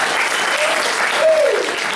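A crowd at a martial arts belt ceremony in Mount Dora claps in a loud, steady burst of applause, with a brief voice or whistle-like tone riding above the clapping.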